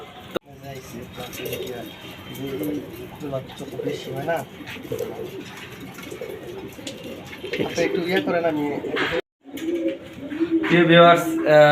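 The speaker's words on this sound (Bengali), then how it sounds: "এইখানে বেশিরভাগ কবুতরই রেস্ট রাখা হয়েছে" Racing high-flyer pigeons in a loft coo in soft, repeated low murmurs throughout, mixed with rustling and someone talking nearby.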